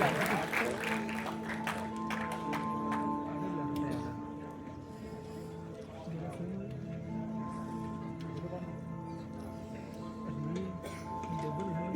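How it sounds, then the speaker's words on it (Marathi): An audience claps for Rajesh Buwa at a Kalgi-Tura folk singing contest in Konkan, with steady clapping under sustained musical tones that is strongest in the first few seconds and then settles. "एकदा जोरदार टाळ्या होऊ द्यात राजेश बुवांसाठी"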